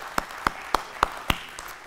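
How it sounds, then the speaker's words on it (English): Hand claps from a church congregation giving praise, five or six sharp separate claps spaced about a quarter second apart, a steady rhythm that thins out at the end, fairly close and alone with no talk. "Well, give Jesus a hand clap of praise in the house today."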